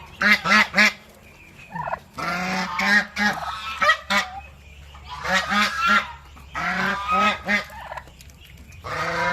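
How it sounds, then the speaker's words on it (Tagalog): A big male duck on a farm honks repeatedly nearby in loud, raspy bursts, with brief gaps between calls. "Yung lalaki nating pato"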